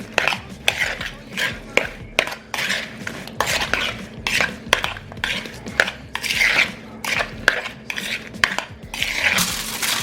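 Food being mixed with brown sugar in a dish, with close, busy clinking and scraping of a utensil against the dish in quick repeated strokes, no voices.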